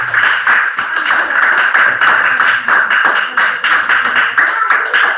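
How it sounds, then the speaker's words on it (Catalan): Children applauding at a school, continuous fast, bright patter of many small hands clapping, steady and close for several seconds without talking. "vamos a aplaudir todos un montón"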